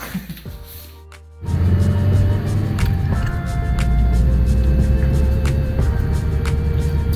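Nissan 240SX fitted with a new exhaust cruising around town at about 70, a steady low engine drone and road rumble that settles in after a brief quiet start, with no talking.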